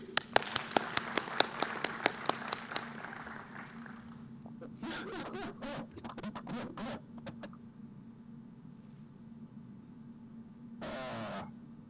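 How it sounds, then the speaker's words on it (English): An audience at an annual members' meeting gives a burst of clapping that starts as distinct claps and thins out, followed by quieter scattered claps and a brief rustle near the end. "when someone does something good, we cheer him or we cheer her. Cheer again."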